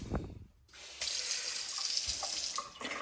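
Water runs from a new kitchen faucet into a new sink in a freshly renovated home, a steady close hiss that starts abruptly after a short quiet pause and continues evenly with faint splashes.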